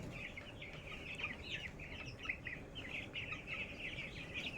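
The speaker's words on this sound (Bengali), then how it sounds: "এই যে নাড়াচাড়া করছে মুরগি পুরো ফার্মে" Broiler chickens crowd a poultry farm shed, giving a steady, dense chorus of overlapping high peeps and chirps that runs continuously over a low rumble of background noise.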